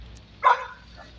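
A single short dog bark rings out at middle distance over a faint low background hum.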